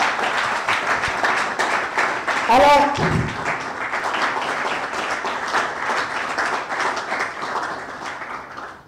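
Applause from an audience at a school ceremony honouring a new doctor of medicine, a dense steady patter of clapping that fills the clip, with a voice speaking briefly over it partway through.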